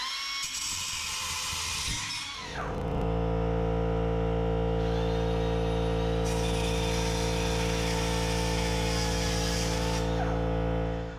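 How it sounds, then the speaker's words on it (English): A McGraw 3-inch pneumatic air cut-off tool spins up into a steady, loud high-pitched whine and grinds through thin metal strapping, running continuously before winding down at the end. "we're going to cut through this thin strapping"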